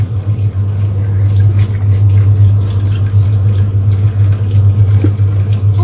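Hot water running from a faulty, leaking household tap, a steady close-up stream with a low hum underneath, continuing for several seconds without talk.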